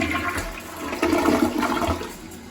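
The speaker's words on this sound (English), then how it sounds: "We got a brand new toilet. That's installed. Y'all ready for the flush?" A brand-new, freshly installed toilet flushes with a loud rushing whoosh of water that swells and then drains, heard close up with no talking over it.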